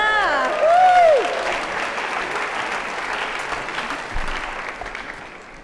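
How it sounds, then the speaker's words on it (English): Audience applause at a medical school white coat ceremony, the Warren Alpert Medical School Ceremony of Commitment to Medicine, with a loud whoop at the start and then steady dense clapping from a large crowd. "I'll then call the next name for the next set of applause"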